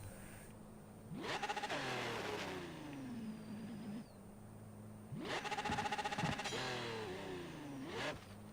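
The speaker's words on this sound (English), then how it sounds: "Clutch kick it into gear so we can get the RPMs going" A Gurkha off-road vehicle in a driving video game, stuck in deep snow after hitting a wall, revs hard twice. Each rev climbs in pitch and then falls away, with a steady engine drone in between and no talking.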